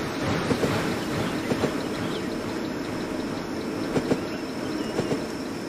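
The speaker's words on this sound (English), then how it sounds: "And when the train passes, here it comes." A train passes in the Train World tycoon game, a steady broad rumble with evenly spaced rail clacks repeating throughout, fairly constant in level with no talking.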